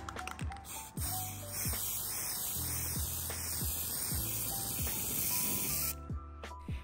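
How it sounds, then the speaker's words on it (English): Bronze spray paint hisses from an aerosol can onto a vase in short repeated bursts, a close, sharp spray with brief pauses and faint clicks between strokes. "what I'm going to do is start off by spray painting it bronze"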